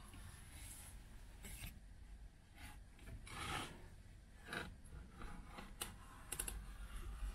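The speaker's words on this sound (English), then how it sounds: "put a knife blade through this sticker" A knife blade slicing through a sticker on a Specialized Turbo Kenevo Levo e-bike battery pack (M1-504Wh), heard as close, quiet scraping and rasping scratches in short irregular bursts, with no talking.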